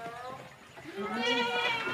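Goats in a family goat pen where a doe has just given birth, bleating in a few wavering, drawn-out calls that rise and grow louder toward the end, with people talking nearby.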